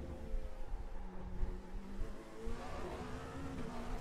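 A Dallara LMP2 race car in iRacing, its engine droning steadily at high revs with shifting pitch as it runs through a corner, moderately loud and without talk.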